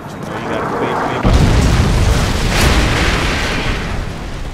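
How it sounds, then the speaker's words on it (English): A Predator missile strikes in Call of Duty MW3, setting off a sudden loud, rumbling blast that rolls on as a long, dense roar of explosions and gunfire in a busy firefight. "Friendly Predator missile inbound."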